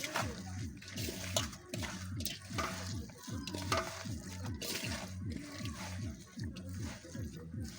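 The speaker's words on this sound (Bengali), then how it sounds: "জিরে গুঁড়ো দেব, দিয়ে ভালোভাবে সবগুলো উপকরণ মাখিয়ে নেব।" Papaya chutney ingredients being hand-mixed with ground cumin, a close, rhythmic wet squishing and stirring repeating at a steady pace, soft and continuous.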